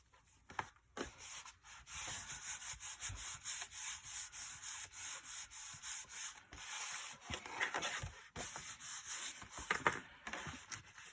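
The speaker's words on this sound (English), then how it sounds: "I'm going to burnish that in" Burnishing a glued paper flap down on a handmade mini album, a close, repeated rhythmic rubbing and scraping with even strokes, no speech.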